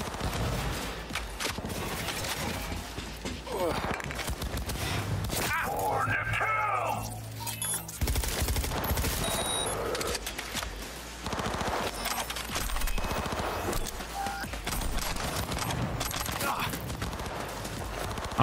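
Rapid automatic gunfire and bursts of shots fill a firefight in the video game Cyberpunk 2077, loud and continuous over game sounds, with a short quieter pause midway before the shooting resumes.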